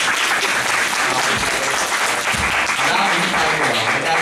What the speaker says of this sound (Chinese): 那请大家先热烈掌声欢迎陈廷豪